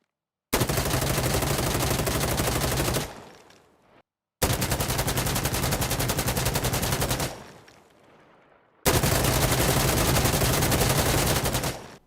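Automatic rifle fire from an M4A1 or AK-74 in the video game Insurgency Sandstorm: three long, loud, sustained bursts of rapid shots separated by short pauses and fading tails, with no voices.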